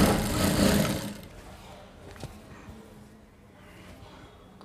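A sewing machine runs while stitching a princess cut blouse, loud and steady at the start, then stops, leaving faint handling noises and a quiet background with a few small clicks.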